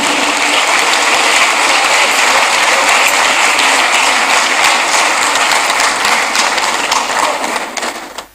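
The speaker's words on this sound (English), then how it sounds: "think we can give them a bigger round of applause" Loud, dense applause from a large audience at a presidential Independence Day awards ceremony for schoolchildren in Ghana, continuous clapping that holds steady for several seconds before tapering off.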